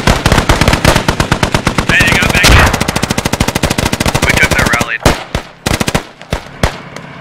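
Rapid machine gun fire in the military shooter game Squad, loud continuous bursts of shots that break into scattered single shots, with faint voices underneath.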